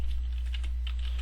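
Quick run of clicks from a computer keyboard being typed on, close and fairly quiet over a steady low hum, several keystrokes in irregular rhythm.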